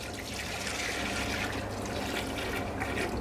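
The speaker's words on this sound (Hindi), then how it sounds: "ऐसे मिक्स करने के बाद आपने इसमें डालना है दूध" Milk poured into a pan of hotel-style white gravy makes a steady, close splashing and gushing liquid sound that runs continuously without pause.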